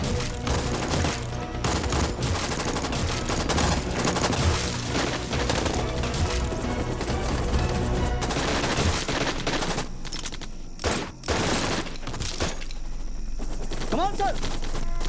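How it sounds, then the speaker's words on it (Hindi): Heavy gunfire in a film battle scene: sustained machine-gun bursts and rapid shots over a dense, loud mix with booms and music, with shouted voices now and then. "सर एनिमी की बहुत हैवी फायरिंग हो रही है"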